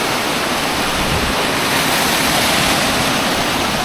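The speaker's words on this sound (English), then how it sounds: "this one has the waterfall" Loud, steady roar of a waterfall in Maui, a dense continuous rush of falling water heard close up with no voices.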